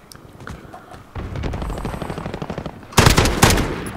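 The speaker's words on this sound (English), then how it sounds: "Why does it fire that quick? It seems almost full auto." Rapid automatic gunfire in an online gun game, one continuous loud burst followed by a harsher, closer volley near the end.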